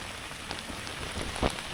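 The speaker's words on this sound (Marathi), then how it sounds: "पाऊस चालू आहे" Steady rain falls during a lure-fishing outing at the water's edge, a dense, even patter with a brief louder burst of drops near the end.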